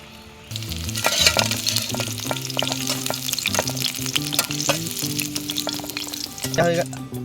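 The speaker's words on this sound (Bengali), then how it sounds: "গ্রেভি রেডি হয়ে গেছে, এখন মাছগুলো দিয়ে নেব আমরা।" Pabda fish hitting hot gravy in a pan, sizzling and frying steadily and close up, with stirring clatter and bursts of hiss throughout and no talk.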